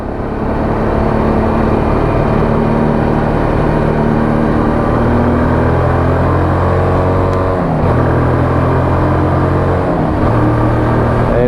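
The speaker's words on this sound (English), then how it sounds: "a little bit of exhaust tone for you, just so you can get an idea of what it sounds like" A Lexmoto LXS motorcycle exhaust drones steadily and loudly while riding. The engine pitch rises through the gears, drops briefly at two shifts, then climbs again.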